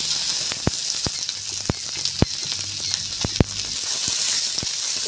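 Fish frying in oil in a pan for a crispy fish fry, a continuous close sizzle broken by sharp, scattered spits and pops.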